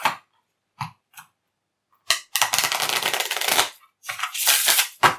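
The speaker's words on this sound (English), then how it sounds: "Let's try shuffling them together." A deck of board game cards from the Borders: Europe game is riffle-shuffled close by, with a few short taps and flicks followed by two sustained riffling bursts.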